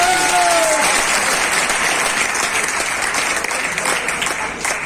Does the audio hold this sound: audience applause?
yes